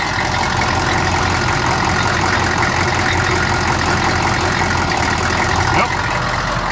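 A Ford 6.5 turbo diesel engine idles steadily, a continuous close rumble with a slight stumble, holding even throughout.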